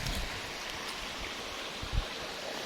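Clear water of the Khlong Maduea stream in Nakhon Nayok, a broad steady rushing and gurgling wash close by, with a small splash near the end.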